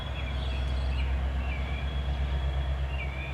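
A westbound CN L501 local freight train idles nearby in Durand, Michigan, a steady low diesel rumble with faint squealing and hissing tones above it.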